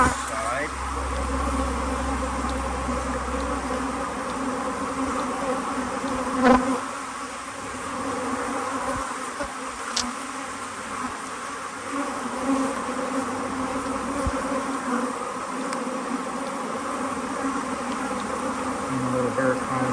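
Honey bees buzzing around hive frames while nucs are combined, a steady, close swarm drone with a few brief knocks and handling sounds, continuous throughout.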